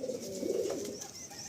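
A Madrasi pigeon hen of a gola line, kept among birds for sale, gives a soft, low cooing phrase, close and fairly quiet, with no voices over it.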